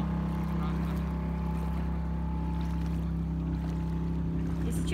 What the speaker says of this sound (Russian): С моторчиком сейчас, с ветерком.